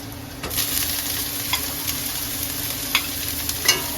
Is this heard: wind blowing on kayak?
no